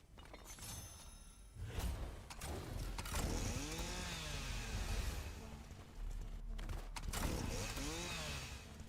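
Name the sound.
chainsaw, likely in Fortnite video game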